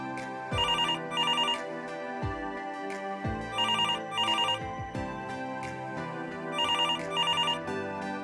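An office telephone line rings in repeated electronic double bursts, a bright trilling ringtone recurring at a steady rhythm, moderately loud with no talk.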